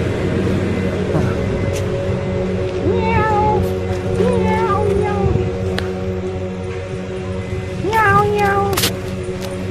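A cat at a temple meows several times in rising and falling calls, grouped in two bursts. The calls sit over a constant background hum, with people talking nearby.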